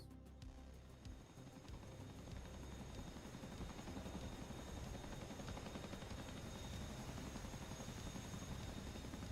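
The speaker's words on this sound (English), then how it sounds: "Chinook is kind of here." A Chinook helicopter flying in a combat flight simulator game, its rotor drone steady and faint throughout with a soft rhythmic chop and no voices.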